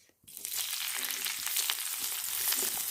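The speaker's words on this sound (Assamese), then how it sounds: "পিঁয়াজবোৰ যেতিয়ালৈকে ৰঙচুৱা হৈ নাযায় তেতিয়ালৈকে ল' টু হাই ফ্লেমত ভাজি কৰি থাকিব।" Onions dropped into hot oil in a kadai, the same pan used earlier for frying cauliflower, start with a sudden hiss and settle into a loud, steady sizzle up close.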